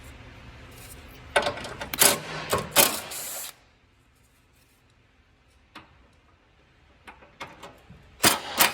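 A ratchet works on the fender bolts of a 2011-2017 Honda Odyssey: bursts of rapid clicking pawl sounds, then a quiet pause, then a few more brief clicks, with no talking.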